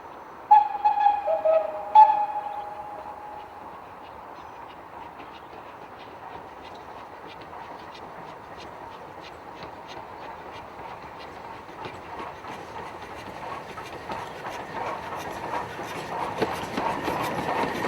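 British Railways steam tank locomotives running, a couple of whistle toots at the start, then a faint, gradually building rhythmic rail clatter and chuff approaching from a distance.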